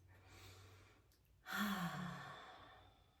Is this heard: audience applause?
no